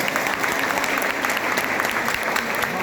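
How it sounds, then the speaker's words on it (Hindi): Audience applause fills a prayer meeting held on Sushant Singh Rajput's birthday, a steady, dense wash of clapping from a crowd that holds loud and even for about three seconds with no voices over it. "एक बार ताली हो जाए।"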